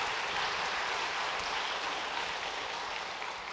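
A church congregation applauding during a Sunday worship service, a dense, steady wash of clapping that runs continuously for a few seconds at a fairly close, even level, with no voices over it.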